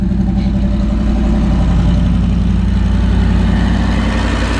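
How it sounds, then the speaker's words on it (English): A car engine idles steadily through a new exhaust with a slight leak on each side, a deep, throaty rumble, loud and close, unchanging throughout with no voices. "Well, that's the new exhaust."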